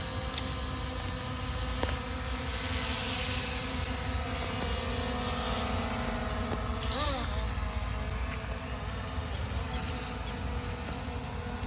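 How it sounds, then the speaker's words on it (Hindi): Two small camera drones, an F198 and a P18 Pro, hover with a steady high insect-like buzz of spinning propellers, continuous and moderately near, with someone talking over it. "दोनों ड्रोन अपने काफ़ी स्टेबल फ्लाई कर रहे हैं।"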